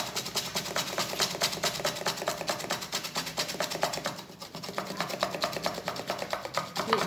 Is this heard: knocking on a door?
no